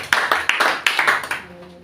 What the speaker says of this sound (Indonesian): Beri tepuk tangan dulu buat Tuhan.